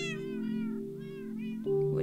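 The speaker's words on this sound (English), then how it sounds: "Here are the cats" Several cats meow in turn at a cat café fundraiser, close and clear, with a few drawn-out cries and one louder, lower meow at the end.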